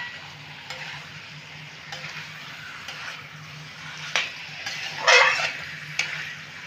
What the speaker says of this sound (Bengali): চিকেনটাকে আমি 2 থেকে 3 মিনিট ভালো করে নেড়ে নেব